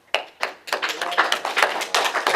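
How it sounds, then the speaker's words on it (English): Applause starts from a few separate sharp claps and quickly swells into a fuller round of clapping from a school audience at a presentation, fairly close and lively. "you have to give him a round of applause"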